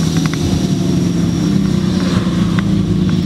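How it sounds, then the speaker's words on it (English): A Cummins diesel Dodge Ram truck engine-brakes while slowing toward a stoplight, a loud steady low drone with a faint higher whine, heard from inside the cab without talk. "whenever you let off the gas and you start engine braking, perfect timing. You hear it every time."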